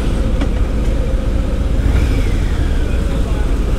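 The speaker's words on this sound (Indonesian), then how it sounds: "Jadi memang ini motor torsi sekali." Harley-Davidson Fat Boy 114 motorcycle cruising on the road, a steady low engine rumble with continuous wind and road noise, near and loud throughout.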